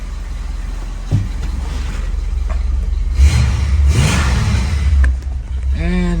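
A 1965 Ford Thunderbird engine runs smoothly at a steady idle, a close low rumble that holds throughout with a few brief knocks and noises on top.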